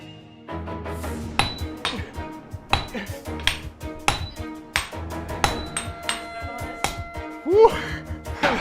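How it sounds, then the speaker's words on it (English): A master swordsmith and apprentices hammer and flatten steel for a sword, sharp metallic strikes ringing in a steady repeated rhythm, close and loud, with bright clinks between heavier blows. "the master swordsmith flattens out the steel"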